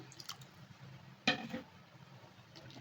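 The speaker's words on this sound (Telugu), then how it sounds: "ఇప్పుడైతే నేను దీంట్లో వాటర్ యాడ్ చేస్తాను" Water pours into a pot of tamarind okra stew with one short, sharp splash midway, in an otherwise quiet kitchen.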